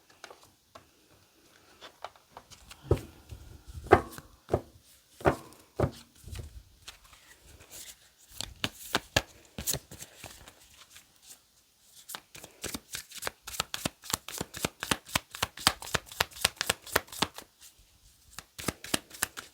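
Flower-language tarot cards are shuffled close up in quick, crisp bursts of riffling and patting, pausing briefly between runs, with no talking.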